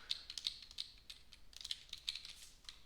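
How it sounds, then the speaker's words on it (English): Arrow keys and Shift tapped on a computer keyboard while editing a vehicle livery in the game ERLC: about eight to ten quick, light plastic clicks in an uneven rhythm, close and fairly faint, with no talking. "you hold Shift and you press arrow keys to get a greater distance"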